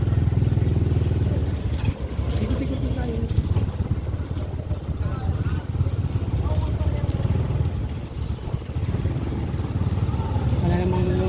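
A motorcycle rides along with a continuous engine rumble, and wind and road noise run throughout, while people talk over it.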